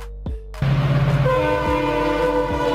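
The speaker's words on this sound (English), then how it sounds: "A train powered by diesel engines, often used where electric trains are not feasible." A diesel train rumbles close by and blasts its horn, a short tone first, then a long sustained honk over the rolling clatter of the cars.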